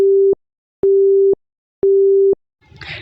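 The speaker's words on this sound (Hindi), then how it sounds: "अंकल ने कॉल काट दी" Phone busy tone after the other party hangs up on a call, three evenly spaced beeps followed by a brief murmur at the end.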